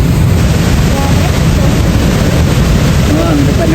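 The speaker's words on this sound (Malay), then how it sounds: "Memang deras. Arus dia memang sangat kuat." Rhine Falls waterfall in Switzerland, a loud, steady roar of strongly rushing water and heavy current filling the whole clip, with wind buffeting the microphone and no pause in the noise.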